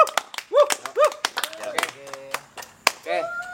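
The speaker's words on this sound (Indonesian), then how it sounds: "kita tepuk tangan dulu buat Bang Harpen" A few people clap in sharp, scattered bursts in a small podcast studio, mixed with loud voices and laughter.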